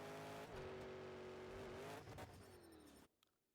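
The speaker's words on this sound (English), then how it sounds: "All it is just engine noises and crashes." Engine noise from the Monster Jam Showdown video game, a loud steady monster truck engine drone with a pitch shift partway through, cutting off abruptly near the end.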